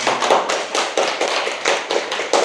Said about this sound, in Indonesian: Tepuk tangan buat Riani, Alexa.